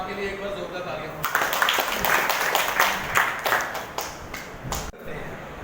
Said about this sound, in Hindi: इस बात के लिए एक बार जोरदार तालियां हो